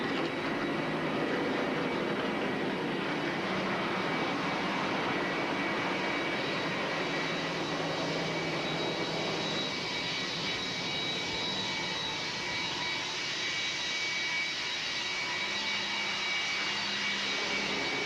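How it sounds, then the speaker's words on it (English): Multiple stock car engines roar steadily and loudly throughout at the Daytona Budweiser Shootout in 2002, a dense continuous drone with no speech over it. "Gentlemen, start your engines!"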